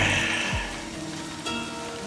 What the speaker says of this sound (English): Raindrops fall on the paper, landing on the soft patterns.